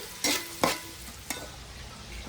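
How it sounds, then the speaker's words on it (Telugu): Sliced onions and green chillies frying in oil in a pan, giving a soft sizzling hiss broken by three quick scrapes of a spatula, close and moderately loud, with no talking. "ఇది ఉల్లిపాయలు అనేవి ఇలా చన్నగా కోసుకుని చక్కగా ఫ్రై చేసుకోవాలి"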